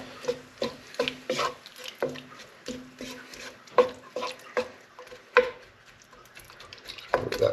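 Tinned tomatoes stirred in a hot pan for pasta al forno, repeated scraping strokes of a spoon against the pan with soft wet squelches and a low sizzle, close and steady.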